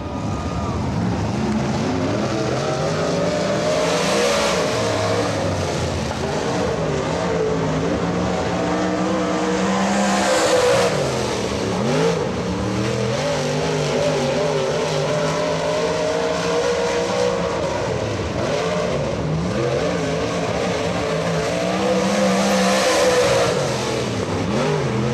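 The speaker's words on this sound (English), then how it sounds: "the DNR Construction B&B Performance GRT race car" A dirt track race car engine roars through qualifying at Atomic Speedway, loud and continuous, its pitch rising and falling as it accelerates and lifts on each lap.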